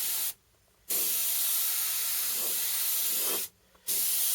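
An airbrush sprays pink paint onto a T-shirt in two long steady hissing bursts, each broken by a brief pause, close and alone without talk.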